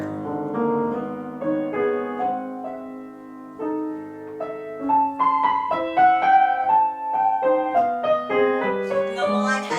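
Solo piano plays the mournful, lyrical dolente second theme of a Prokofiev sonata, a slow singing melodic line over sustained chords, quiet and intimate at first, then swelling fuller and richer with no voices.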